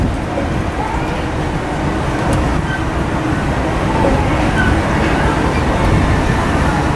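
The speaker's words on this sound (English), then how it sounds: "Lots of trams running though." Disneyland trams roll past in a loud, continuous rumbling drone that stays steady and close throughout, with no clear talk.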